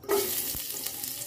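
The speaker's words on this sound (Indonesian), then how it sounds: "goreng dulu bawang merah dan bawang putihnya." Shallots and garlic fry in a pan over high heat, a close, bright sizzle that starts abruptly and continues with a couple of stirring scrapes and clatters, no voices.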